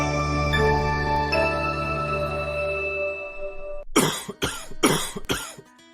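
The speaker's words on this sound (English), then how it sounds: "I have a cough." A person coughs four times in quick, harsh bursts after a fading chime, each cough close and distinct with short pauses between.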